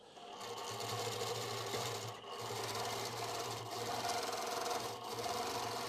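A sewing machine does free-motion quilting, stitching a tight teardrop filler at 12 stitches per inch. Its motor hums steadily with rapid needle chatter, close and continuous, with a brief dip near the two-second mark.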